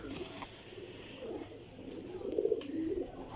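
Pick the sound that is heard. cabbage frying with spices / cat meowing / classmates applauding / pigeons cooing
pigeons cooing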